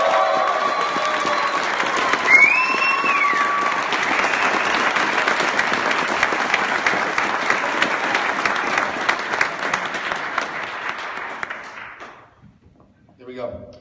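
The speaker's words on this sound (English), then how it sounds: "Let's go ahead and get a big round of applause for Abby" Audience applause and cheering for a guest at a one-man show, sustained loud clapping with whistles and whoops that fades out near the end, followed by a brief bit of voice.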